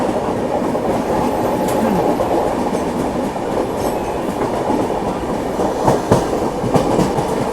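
The Kamayani Express rushes past a moving train on Indian Railways, a steady, loud roar of wheels with rhythmic clickety-clack and occasional sharper rail knocks, continuous throughout.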